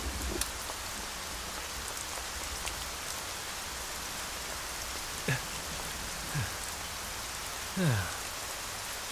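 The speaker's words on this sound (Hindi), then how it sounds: "बारिश को भी अभी आना था।" Rain falls steadily as a soft, even hiss on the ground, holding constant throughout with no voices, while a few faint passing sounds drift over it now and then.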